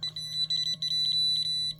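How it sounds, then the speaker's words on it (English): Rapid, stuttering high-pitched electronic beeping from a Gochifix green laser cross level warning it is not level, pulsing in quick irregular bursts over a low hum, close and fairly loud. "it's going to beep because I don't have it level enough"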